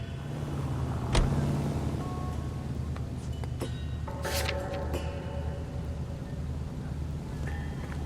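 Car driving in L.A. Noire, a steady low engine hum and road rumble with light wind noise and a few brief clicks and tones, no talk.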